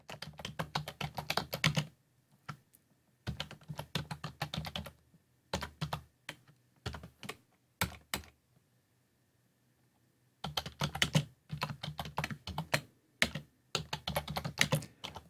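Typing on a computer keyboard while writing a program, heard as rapid, close bursts of keystrokes broken by pauses of several seconds, including one long silent gap before a final stretch of steady typing; no talking.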